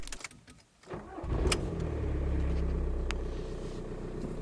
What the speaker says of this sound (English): Get into your car, start it up,